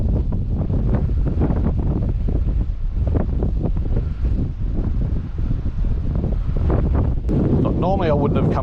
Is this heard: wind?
yes